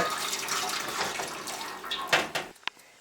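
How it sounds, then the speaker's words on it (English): Strained juice being poured back into a pot during homemade pectin canning, with a continuous splashing liquid pour that tapers off and ends with a few faint drips. "What I'm going to do is pour that juice back in there."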